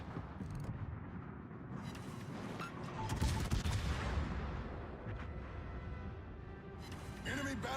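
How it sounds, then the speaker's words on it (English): Naval gunfire in World of Warships, with heavy booming salvos and rolling blasts that swell in the middle, overlaid with game effects and a voice speaking. "oh, he's firing at me"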